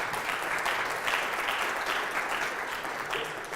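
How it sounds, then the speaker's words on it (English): Steady applause from a conference audience at a sustainability talk, moderate in level and continuous throughout without a break. "that does deserve an applause."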